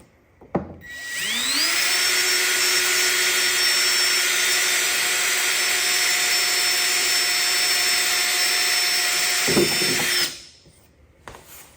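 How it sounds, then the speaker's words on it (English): A power drill with a tiny bit drills a small hole in a Jeep XJ hood, spinning up with a high whine and running steadily for several seconds, loud and close, then winding down to quiet. "I don't know how that drill bit's not going to break."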